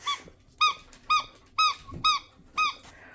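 Squeaky dog toys squeezed in quick succession, six sharp, bright squeaks in an irregular rhythm, close and fairly loud over a quiet room, with no talk during the squeezes.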